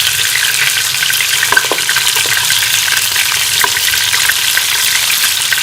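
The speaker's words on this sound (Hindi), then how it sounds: "मीडियम आंच पे फ्राई कर लेंगे।" Chicken achari kofta fry in oil over medium heat, a loud, close, continuous sizzle with a few soft clinks and stirring sounds and no voices.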